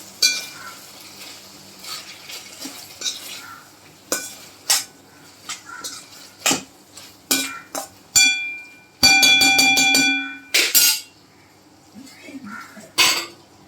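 Ground masala paste is stirred into guar bean curry in a metal cooking pan, giving repeated close, ringing scrapes and clanks of a spoon against the pan in irregular strokes, with a soft sizzle beneath.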